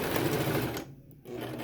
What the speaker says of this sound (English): Now I'm going to sew about a 1/4 inch,